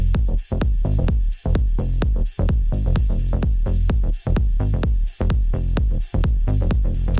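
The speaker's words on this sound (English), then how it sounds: "That is the sound of compressed ass dope kick drum with good mastering on there." Loud music driven by a punchy, heavily compressed kick drum thumping in a steady beat, with brief dips between phrases.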